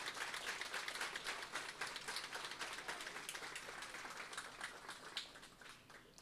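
Crowd of attendees applauding at an education conference on anti-racism, sustained scattered clapping lasting several seconds, soft and somewhat distant, with no voices on top.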